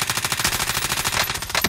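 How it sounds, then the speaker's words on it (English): Rapid automatic gunfire rattles in a continuous, close, loud burst during a Call of Duty: Modern Warfare match. "Receiving hostile fire."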